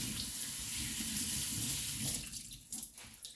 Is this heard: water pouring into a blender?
yes